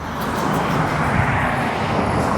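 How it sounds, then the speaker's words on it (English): An aircraft passes overhead outdoors with a continuous, loud, broad rumbling roar that holds steady throughout, with no talking. "it looks like there's aircraft in there"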